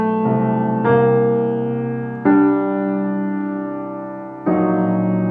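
A viola enters over sustained orchestral strings in a Shostakovich symphony, playing a few long bowed notes that each begin with a fresh attack and then slowly fade. The sound is full and close, with no talking.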